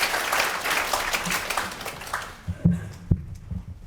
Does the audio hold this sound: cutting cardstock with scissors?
no